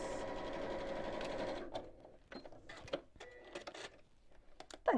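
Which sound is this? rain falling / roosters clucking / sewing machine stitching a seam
sewing machine stitching a seam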